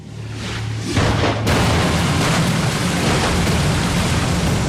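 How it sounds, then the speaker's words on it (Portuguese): A deep, rumbling boom swells into a loud, sustained roar of crackling debris, like a large explosion heard up close. "Essas explosões abririam buracos nos telhados, lançando seu conteúdo em jatos dourados."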